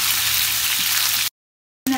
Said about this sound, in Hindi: हमारा तेल अच्छे से गरम हो चुका है हम इसमें जिंजर गार्लिक पेस्ट डालेंगे। इसको अच्छा हम भुनेंगे